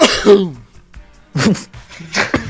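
Several sharp coughs and throat-clearing bursts come in quick clusters, close and loud, separated by brief quiet gaps.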